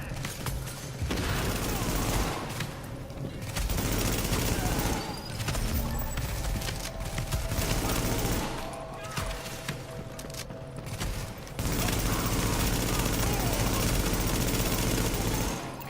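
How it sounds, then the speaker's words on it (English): Heavy gunfire rattles through a shooter video game battle in sustained bursts broken by short lulls, with dense overlapping shots and background combat noise throughout. "The escort party's taking heavy fire."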